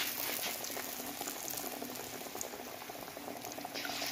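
Fish frying in oil on a low flame, a dense continuous bubbling sizzle that stays steady and close throughout with no talking.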